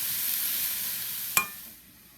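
Chopped cabbage and other vegetables for vegetable lumpia sizzling in a pan, a steady close frying hiss broken by one sharp clank of a utensil before the sizzle fades down.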